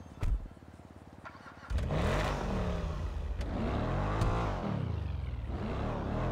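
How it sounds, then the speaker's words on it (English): A Cyberpunk Quadra 77 car in GTA V starts with a brief crank and catch, then settles into a loud, close idle that swells with a couple of revving surges. "hop into this one and start it up and see how it goes"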